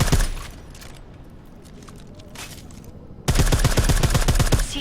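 Suppressed gunfire from a weapon in the video game Deus Ex: Mankind Divided: a quiet stretch of ambience, then a sudden dense run of rapid, evenly spaced muffled shots that continues loudly to the end.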